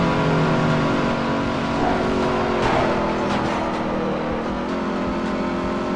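Loud, continuous engine roar of a racing car in the video game Midnight Club 3 DUB Edition Remix, revving with shifting pitch and a few sharp transient knocks, no talking.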